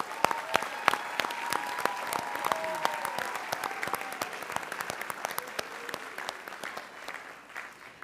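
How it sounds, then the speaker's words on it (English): Modest, scattered applause rises in a Board of Education meeting room as volunteers are thanked, individual claps distinct and fairly faint, with a faint steady tone and light murmur beneath. "Please give yourselves a round of applause"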